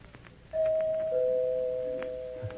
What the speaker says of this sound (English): she rings the doorbell instead of knocking